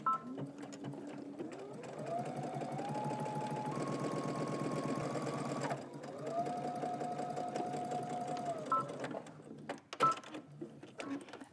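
A home sewing machine stitches an elastic casing on pants half an inch from the folded edge, a close, steady mechanical whir that speeds up and slows in stages, pauses briefly, then runs again before stopping.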